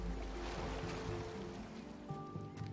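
Waves wash in steadily on a shore in the Unravel video game, a soft continuous surging rush with no voices.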